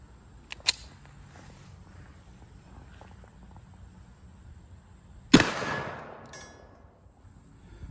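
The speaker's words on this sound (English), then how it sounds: "This is PPU hollow point ammunition, and we'll take a shot." A single sharp pistol shot of a PPU hollow point round striking a level 2 body armor plate, loud and abrupt with a short ringing decay, preceded by faint handling clicks against a quiet background.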